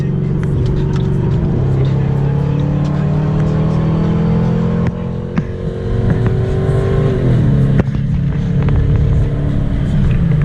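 A 2019 Chevy Midnight truck drives along, its engine a steady loud low rumble with rising and falling revs and road noise, a brief dip midway and a gear change near the end.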